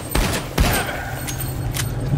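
Gunfire in the shooter game SiN Episodes: Emergence, a few sharp shots with rapid follow-up bursts and thuds over a short stretch, close and punchy, with a faint hint of a voice.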